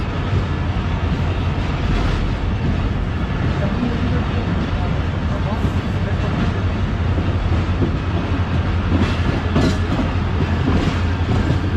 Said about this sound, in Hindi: हमारी ट्रेन बिन कासिम रेलवे स्टेशन से निकल रही है